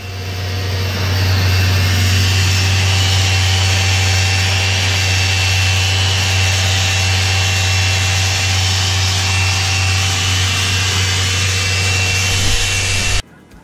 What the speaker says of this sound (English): here's the holes before Jim is sanding them